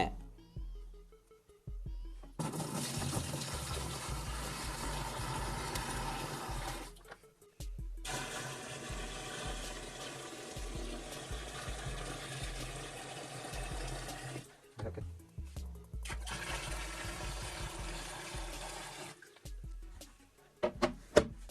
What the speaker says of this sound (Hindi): तो सबसे पहले हम इसके ढक्कन को खोल लेते हैं और इसमें पानी को भर लेते हैं।